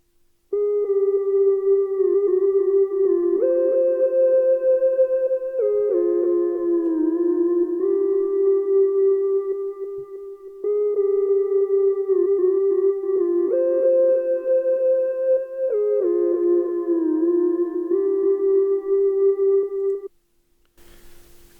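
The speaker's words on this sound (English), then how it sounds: "I just added a Sine lead from SRX keyboard," A sine lead patch from an SRX keyboard plays a smooth, pure-toned melodic line of sustained, gliding notes in a repeating phrase, loud and alone, with no voices over it.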